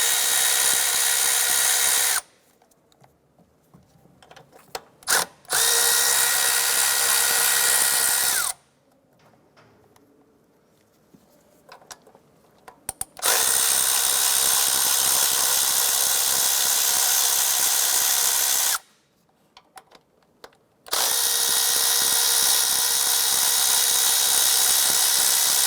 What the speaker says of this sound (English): Using a 10mm socket, we're going to go ahead and remove the studs and nuts holding this.